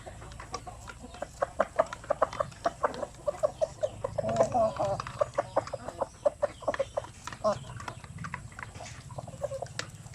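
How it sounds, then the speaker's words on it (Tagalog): Several chickens cluck close by in a steady stream of short, clipped calls, with quieter farmyard noise underneath. "So ito lahat mga sampin to na mga manok natin."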